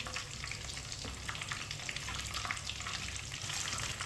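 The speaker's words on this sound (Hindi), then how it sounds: "मीडियम आंच पर इसे फ्राई करना है" Chicken frying in oil on medium heat, giving a steady crackling sizzle with dense popping throughout, close and fairly loud with no speech.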